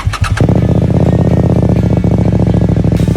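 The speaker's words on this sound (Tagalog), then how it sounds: "At ang motor na gagamitin natin ay CF Moto MP800. Soundcheck muna tayo." A CF Moto MP800 motorcycle engine rumbles loud and close with a steady rapid throb, opening with a few sharp bursts before settling into a continuous idle.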